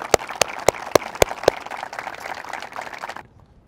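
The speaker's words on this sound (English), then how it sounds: "Another round of applause that I think we should give out is for Kelsey Bright Oliver." Applause at a Lincoln College of Technology and Matco Tools presentation: a crowd claps steadily while one nearby person lands several sharp, loud regular claps at the start, then the clapping fades out.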